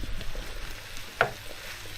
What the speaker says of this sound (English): Let that simmer for a bit.